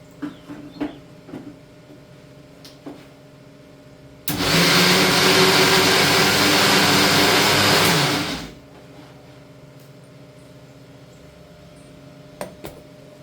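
A kitchen mixer grinder whirs loudly as it blends curd, a steady motor roar lasting about four seconds that ends with a spin-down, with quiet kitchen clatter before and after.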